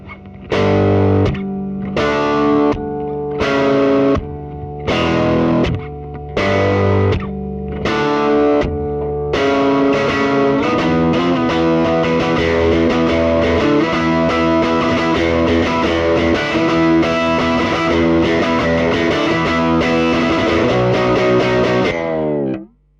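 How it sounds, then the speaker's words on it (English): Electric guitar chords ring out through a shimmering, reverb-like effect made by strings rather than a spring, first in separated stabs, then a sustained washy passage that fades abruptly at the end. "the effect it makes is a bit like reverb, but different, because it's not a spring, it's strings this time"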